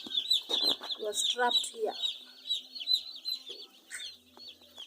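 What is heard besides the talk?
broiler chicks in brooding house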